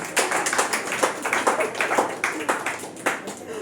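A congregation clapping at a church sermon, a run of sharp, distinct hand claps in an uneven rhythm, close and fairly loud, with no talk over them.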